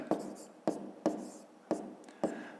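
Pen or pencil writing numbers by hand on paper for a fifth-grade maths exercise, five short scratchy strokes landing in an even rhythm, close and quiet.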